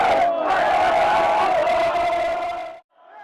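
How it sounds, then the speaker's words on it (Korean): A crowd at Tokyo's Shibuya crossing roars and cheers after Japan's 2-1 win, many voices yelling loudly together for nearly three seconds before cutting off abruptly. "같은 시간 도쿄 한복판 시부야 교차로는 환호로 가득 찼습니다"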